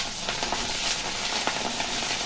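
Vegetables fry in a pan with a steady, close hiss of sizzling oil, broken by light clicks of stirring, with no talk.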